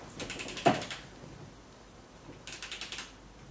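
Ratcheting head of a Desoutter DWTA Vision digital torque and angle wrench, giving two short runs of rapid, evenly spaced clicks, close and fairly quiet, with a brief pause between them.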